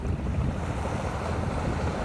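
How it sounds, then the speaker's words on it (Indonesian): Waves and wind on a white sand beach at PIK 2: a steady, dense roar of surf mixed with buffeting wind noise on the microphone, loud and unbroken throughout. "Ini situasi pantai pasir putih."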